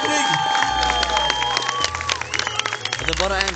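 Audience applause and cheering at the final of a dance competition, the Göteborgs Mästerskapen, a loud crowd clapping steadily for several seconds with voices mixed in.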